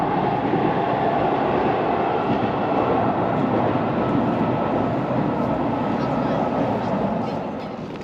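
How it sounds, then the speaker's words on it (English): A train crosses the Forth Bridge in Scotland, heard as a steady, distant rumble and rolling roar that holds for several seconds before easing slightly, with wind-like noise around it. "there's a train going over the bridge, look."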